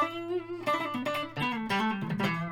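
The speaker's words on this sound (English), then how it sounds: "But the neck sounds like this." Electric guitar on the neck pickup plays a brief passage of warmer, rounder notes and a few strums, close and unaccompanied, with soft attacks and some sustain.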